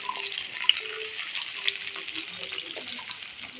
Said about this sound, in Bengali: এখন চিকেনটাকে এখন পেঁয়াজটাকে ভাজা করা হবে